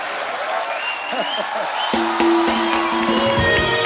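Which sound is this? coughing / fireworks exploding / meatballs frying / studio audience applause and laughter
studio audience applause and laughter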